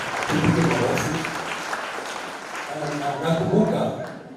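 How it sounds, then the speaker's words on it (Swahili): A congregation applauds at the grand opening of a new church sanctuary, a warm wash of clapping that swells, dips briefly and rises again, with voices mixed in. "Tupige makofi."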